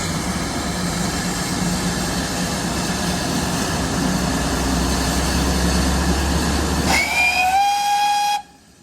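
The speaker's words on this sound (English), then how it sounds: "Oh, that was a wheel slip." A steam locomotive on the WSR heritage railway, close and loud, gives off a dense, continuous roar of rapid exhaust and hissing steam as its wheels slip. A whistle-like tone rises near the end before the roar cuts off sharply.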